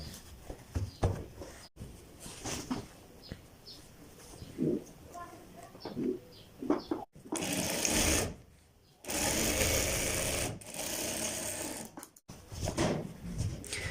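A domestic sewing machine stitches kids' pajama pieces together in several sustained whirring runs separated by short pauses, with quieter handling and a voice talking in the gaps.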